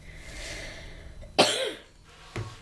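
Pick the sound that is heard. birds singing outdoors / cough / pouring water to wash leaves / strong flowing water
cough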